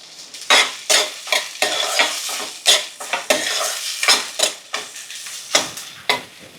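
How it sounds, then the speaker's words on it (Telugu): Green chillies and sliced onions being stirred in a hot pan, with a steady run of clinks and scrapes from a utensil against the metal over a light sizzle, close and fairly loud, no voices. "పచ్చిమిర్చి వేసుకుందాం కొంచెం ఇలా వేగుతుంటే ఇందులోకి సన్నగా కట్ చేసి పెట్టుకున్న ఆనియన్స్"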